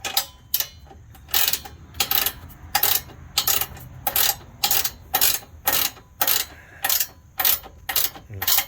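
Ratchet cranking down bolts on LoD Destroyer bed sliders on a Jeep Gladiator, a steady run of sharp, evenly spaced clicking bursts repeating about once every half second, close and clear with no talk.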